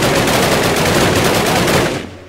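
Rapid automatic gunfire from a machine gun in the Minecraft WW2 gun mod, a dense continuous burst lasting about two seconds before cutting off abruptly, loud and close with no talking.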